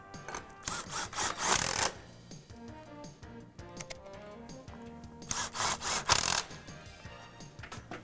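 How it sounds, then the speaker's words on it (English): Lag screws, 5/16 inch, are driven to fasten a bracket while installing a Martin Fingershield system. Close, repeated grinding and scraping bursts come in uneven strokes, loudest at the start and near the end, with no talking. "we'll fasten this with 2 5/16 lag screws."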